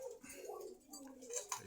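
Caged pigeons at a Dhaka bazaar, a few faint soft coos with light background clicks, quiet and close.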